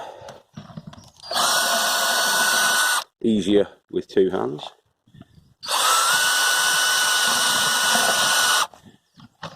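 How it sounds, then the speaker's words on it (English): A cordless drill driver bores holes with an 8mm metal bit, two long steady whining runs separated by brief speech and handling noises, close and loud. "that's an 8mm metal drill bit, and it creates those holes there"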